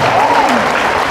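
A church congregation in San Roque, Caloocan City applauds in loud, continuous, dense clapping, while a voice rises and falls faintly underneath.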